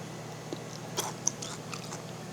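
Blanched fatsia (dureup) shoots being chewed and bitten, giving soft, close crunches and a few sharp bites over quiet room tone.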